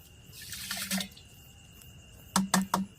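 Water-soluble fertilizer being stirred into water in a pot gives soft liquid sloshing and then three quick splashy drips or clinks near the end, close and moderately quiet, with no voices.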